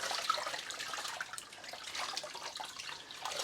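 Steady broadband water pours over dyed yarn while it is rinsed under a tap, a continuous close hiss with slight splashing variation and no voices.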